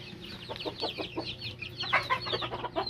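Chicks peeping repeatedly in rapid high chirps, close and steady, against a low hum in the background.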